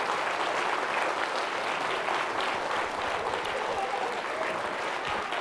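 Audience applause at a school Christmas concert, a steady, even wash of many hands clapping together, moderately loud and sustained throughout without talk over it.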